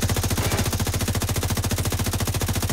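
A high-rate assault rifle in The Division 2 shooter game fires on full auto, a dense, steady stream of rapid, evenly spaced shots that runs unbroken and loud throughout, with no voices.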